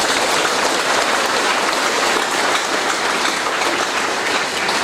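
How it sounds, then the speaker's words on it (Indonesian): An audience at a night ceremony for new PSHT members in Lampung Barat claps steadily and densely, a loud, even wash of applause with no break. "Tepuk tangan dulu."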